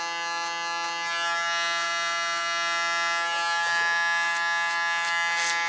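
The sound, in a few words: wireless hair clipper buzzing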